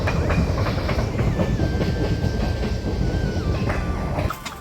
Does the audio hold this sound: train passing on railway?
yes